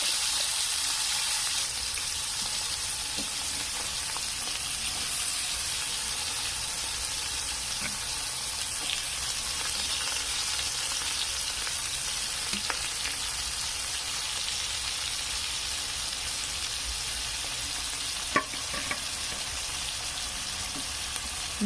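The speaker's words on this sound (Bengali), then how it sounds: "ওটা একটু ভাজা ভাজা হয়ে এলে এখানে আমি পেঁয়াজ কুচিগুলো দিয়ে দেবো।" Chopped onions frying in blackened oil in a pan for a Bengali egg and eggplant dish, a steady close sizzle running evenly throughout with a few faint clicks and no talking.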